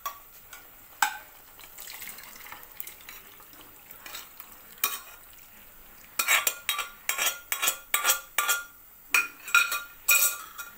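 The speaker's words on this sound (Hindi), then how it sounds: "इसको अच्छे से मिक्स करेंगे छोले को" Chickpeas being stirred into a spiced tomato and tamarind masala in a pan for Amritsari chole, with a spoon scraping and clinking in bursts over a faint sizzle, busier and louder in the second half.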